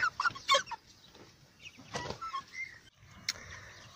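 Eight-week-old broiler chickens raised for meat cluck in short bursts, with several close, fairly loud clucks early on and scattered calls after a quieter stretch.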